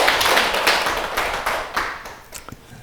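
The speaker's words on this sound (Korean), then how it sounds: "우리 감사의 박수 한번 드리죠." A small class at a Buddhist lecture claps in thanks for the temple's head monk, a few close hands clapping in loose rhythm that fades out with a couple of last claps.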